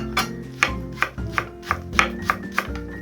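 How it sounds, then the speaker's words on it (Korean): A knife chops red and green Cheongyang chili peppers on a cutting board, giving about nine evenly spaced sharp taps that come close and clear over a faint background hum. "그리고 홍청양, 파란 청양, 각각 한 개씩 총총 썰어주세요"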